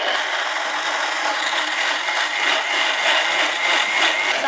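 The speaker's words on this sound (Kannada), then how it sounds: "ಈ ಫ್ರೂಟ್ಸ್ ಎಲ್ಲ ಹಾಕಿದಾಗ, ಎಸ್ಪೆಷಲಿ ಪಪಾಯ ಅಂತ ಹಣ್ಣನ್ನ ಹಾಕಿದಾಗ ಮಿಕ್ಸಿಯಲ್ಲಿ ನೀರು ಅದೆಲ್ಲ ಹಾಕೋ ಅವಶ್ಯಕತೆ" A mixer grinder blends fruits including papaya, a loud constant whirring motor roar running steadily throughout, close up with no talk.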